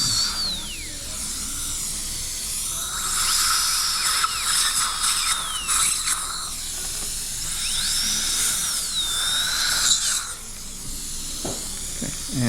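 A dentist's high-speed burr drill whines continuously in bursts, its pitch gliding up and down while reshaping a fresh composite filling, with suction hiss and faint clinic mechanics beneath.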